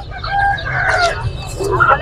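Chickens cluck and squawk nearby at the Lalukhet bird market in Karachi, amid a noisy market background, with a short crowing call rising over the low rumble.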